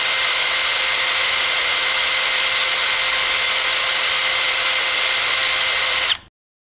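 Milwaukee M12 FID2 cordless impact driver spinning freely at its third speed setting, a steady high-pitched whine held for about six seconds, close and loud, then cut off abruptly.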